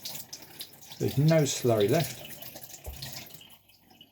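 Water runs from a tap over a razor and hone stone as the slurry rinses off, a steady broadband splash under a man's brief speech.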